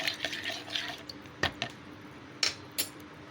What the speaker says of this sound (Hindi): बस देखिए ये मिक्स करके तो ये हमारा शरबत तैयार है